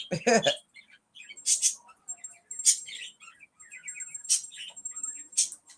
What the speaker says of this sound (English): as you hear, my birds are being loud